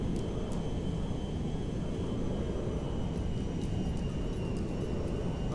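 A military airplane in GTA 5 gives a steady, loud, broadband engine roar and rushing drone that holds at a constant level throughout, with no speech.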